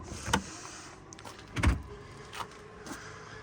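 Electric rear hatch of a 2016 Mercedes-Benz C63 AMG operating, with a few short motorised whirs and soft clunks at close range over a quiet background.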